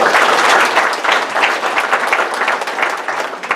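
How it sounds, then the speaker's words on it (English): A business meeting audience gives a round of applause: loud, dense clapping from many hands right up close, holding steady throughout with a slight easing toward the end. "round of applause"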